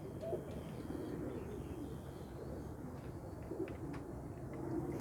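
Low, soft cooing of a prized pet pigeon repeats in short phrases throughout, steady and fairly close, with faint chirps and a light background hiss.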